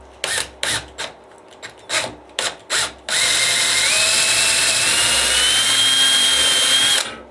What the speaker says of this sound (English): we're going to drill from the top